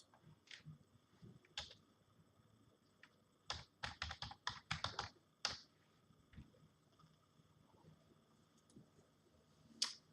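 Quiet clicking of keys on a computer keyboard, scattered taps with a quick burst of typing in the middle, then sparse keystrokes.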